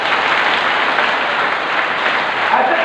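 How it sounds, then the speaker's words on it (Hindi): Sustained, dense applause from a large audience at a Hindu devotional darbar gathering at Pandokhar Dham, steady and loud throughout with no voices rising above it. "ऐसे ताली बजती है।"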